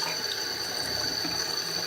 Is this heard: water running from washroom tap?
yes